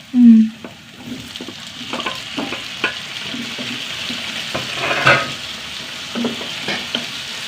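Onions and tomatoes sautéing in a pan, giving a soft continuous sizzle with scattered scrapes and clinks of a stirring utensil and one brief louder knock at the start.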